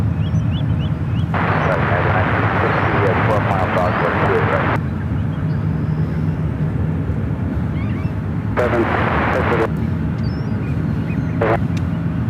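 A Delta Boeing 767 airliner at San Francisco airport taxis toward runway 1. A steady, distant engine rumble drones on beneath a voice, which comes in bursts.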